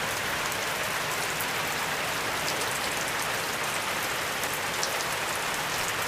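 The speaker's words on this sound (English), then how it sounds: "there's something about rain on a tin roof. It's soothing." Rain drumming on a tin roof, a dense, even hiss of countless drops that holds steady and close throughout with no voices.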